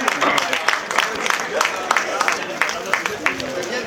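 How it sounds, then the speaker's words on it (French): Audience clapping at a Grand Prix de la Pentecôte cycling race in Moncontour, steady scattered applause with crowd noise and an announcer talking over it. "Lucas Bourgoine, merci de l'applaudir."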